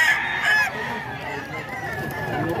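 A Black Sweater breed rooster crows once, near and fairly loud, its strained call rising then trailing off over faint background noise.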